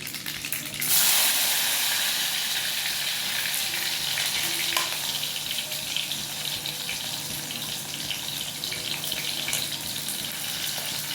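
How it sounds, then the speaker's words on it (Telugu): Mustard seeds hit hot oil and burst into a loud, dense sizzle that then holds as a steady crackling hiss, close by, with small pops and a faint stir partway through. "ఇప్పుడు ఆయిల్ వేసేసుకుందాం. ఆవాలు, తెరగడ్డలు,"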